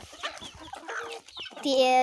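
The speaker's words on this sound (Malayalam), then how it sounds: "ഇപ്പോൾ ഞങ്ങളുടെ വീട്ടിൽ വളർത്തുന്ന നാടൻ കോഴികളാണിത്" Several native backyard hens at a house cluck and murmur close by while fed rice, ending in a loud sustained squawk, with a person talking softly in the background.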